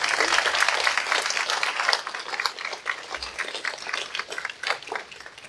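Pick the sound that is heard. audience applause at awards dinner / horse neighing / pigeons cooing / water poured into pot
audience applause at awards dinner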